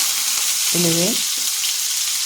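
Spices tempering in hot oil, a steady close sizzle throughout with a short tonal hum in the middle; no speech.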